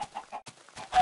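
Ducks in the video game Minecraft, a quick series of soft, clucking quacks, several short bursts close together, quiet and close with no talk.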